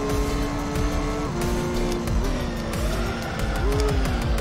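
A car in Gran Turismo 3 drives with a steady engine drone and shifting pitch, skidding with tire squeal through corners, loud and continuous with no talk.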